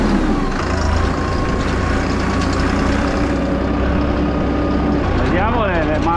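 A tractor engine idles steadily at close range during a test drive on a farm, a constant low rumble with a brief rising mechanical whine near the end.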